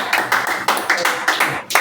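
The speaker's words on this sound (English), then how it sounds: "Clap for it" Students clap in a steady, even rhythm of sharp claps at a classroom science lesson, close and fairly loud, repeating about once every quarter second throughout.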